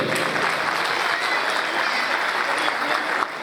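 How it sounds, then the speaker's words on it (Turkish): Wedding guests clapping together in a sustained burst of applause, dense and even throughout, with a brief dip near the end. "Bir alkış gelsin lütfen onlar için."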